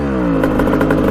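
A 1989 Kawasaki KX125 dirt bike engine runs at a loud, close, rough idle, a steady buzzing two-stroke putter with slight clattering irregularities.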